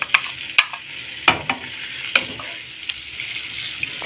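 Garlic and ginger paste sizzles in a pan of hot oil, frying as the base for an okra-and-egg dish. A steady hiss runs under sharp scraping clicks from stirring.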